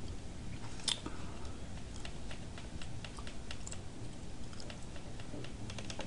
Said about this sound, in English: I'll give you a second to type that